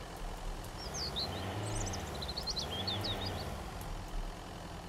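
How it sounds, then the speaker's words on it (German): Strained, labouring car engine stuck in a single gear in the survival video game MIST Survival, a steady low drone holding throughout with faint birdsong-like chirps above, no talk. "Der klingt immer so ein bisschen übertrieben gequält, der Wagen, ne?"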